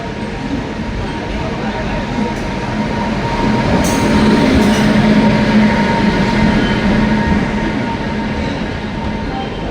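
Steady rumble of a passenger train heard from inside a carriage, with continuous wheel and track noise rising slightly midway, and faint voices talking under it.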